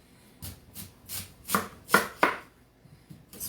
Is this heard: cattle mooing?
no